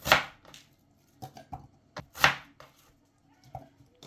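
Irregular knife chops on a cutting board as an onion is cut into cubes, sharp distinct thuds with short pauses between, two louder strokes standing out among softer ones.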